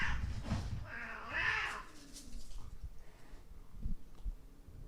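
Cats fight outdoors somewhere nearby, giving a couple of brief yowling screeches early on before fading into quiet low background rumble.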